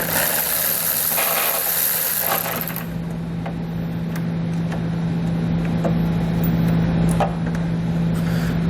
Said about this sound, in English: we'll grab a 10mm socket, and you want to be extra careful not to drop them when you remove them